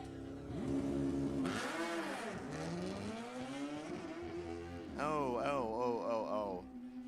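Two Kawasaki drag-racing motorcycles at an NHRA Summit Racing Series Division 7 E.T. Finals event roar down the strip, with loud rising and falling engine howls, a sharp climb through the gears and a second burst of revving near the end.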